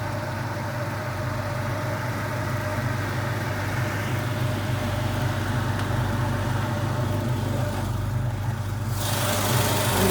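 A 1953 Chevy 3100 pickup restomod with a GM Performance crate 350 V8 and Holley fuel injection idles steadily close by, a low, even rumble that holds throughout.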